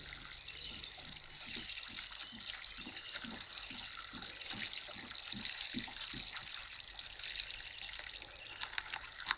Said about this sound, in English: this water is pouring all onto our arable land